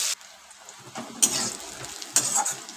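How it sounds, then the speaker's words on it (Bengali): Eggplant pieces frying in a pan, soft bursts of sizzle and spatter that flare up twice, close by and moderately quiet, with no talk. "এবার আমি বেগুনগুলো ছেড়ে দিলাম। বেগুনটা ভাজবো।"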